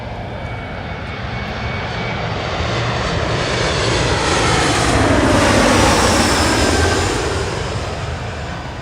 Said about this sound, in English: Smokeless landing there on 24 right for that Embraer.